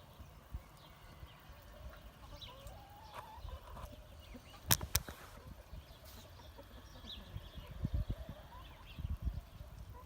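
Free-range village chickens and a rooster roaming outdoors, with soft scattered clucks and bird calls over a low rustling background, a couple of sharp louder knocks near the middle and faint bursts toward the end.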